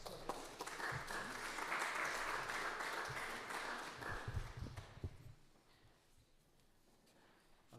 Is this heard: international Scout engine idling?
no